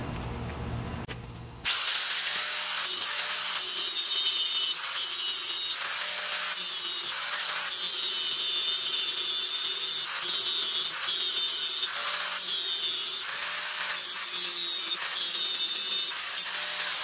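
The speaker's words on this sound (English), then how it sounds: "I'm going to grind this right here out and see what we get" A harsh, steady grinding rasp runs continuously after a short quiet start, loud and close, with a bright high-pitched scraping edge throughout, as an oil pressure sending unit from a Jeep Wrangler YJ is ground open.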